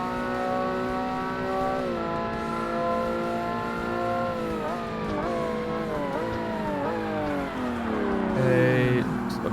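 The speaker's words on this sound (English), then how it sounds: "I think this engine, though, is pretty cool, though. I think it sounds pretty cool." Race car engine in the Forza Motorsport racing game on Xbox, naturally aspirated with no turbo or supercharger, holding a steady harmonic drone that rises and dips through gear changes, climbing sharply near the end, with faint background talk.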